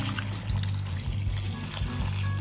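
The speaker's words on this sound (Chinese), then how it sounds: "加水煮到冬瓜半熟" Water pours steadily into a cooking pot holding winter melon and bamboo shoots for a soup, a continuous close splashing stream lasting a couple of seconds with no talk.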